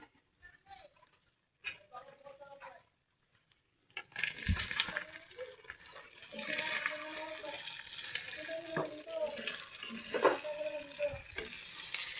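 Oil crackles and sizzles in a pan, a steady frying hiss that swells after a few quiet seconds as rat adobo with lemongrass fries, with occasional clatter and a voice speaking over it.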